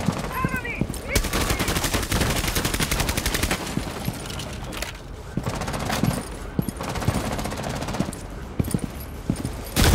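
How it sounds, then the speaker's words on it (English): Gunfire in Rainbow Six Siege during a Consulate team deathmatch, with rapid automatic bursts of shots cracking repeatedly across the whole stretch, loud and close, broken by short pauses. "He shot me through that wall"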